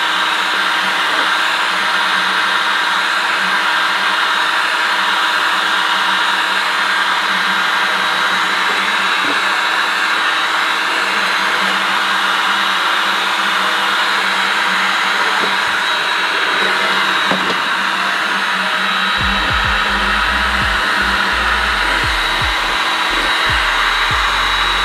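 A heat gun warms a rubber piece fitted onto the turbo of a Mercedes M271 engine, giving a steady loud blowing roar throughout with no talk, and a low rumble joins near the end.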